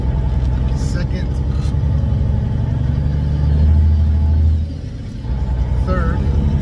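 A semi truck with a 13-speed manual transmission accelerates in second gear, its diesel engine droning and rising in pitch, then briefly dropping at a shift, while someone talks over it.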